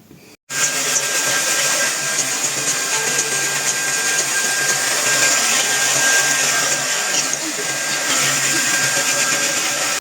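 A hair dryer switches on and blows with a steady, loud whirring roar that continues unbroken, close by.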